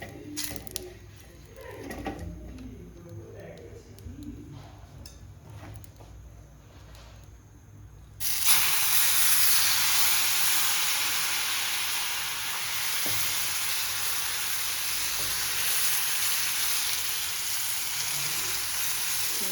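Oil sizzles on a hot greased tava being prepared for besan chilla, quiet handling noises at first, then a loud steady hiss bursts in and holds close and continuous to the end.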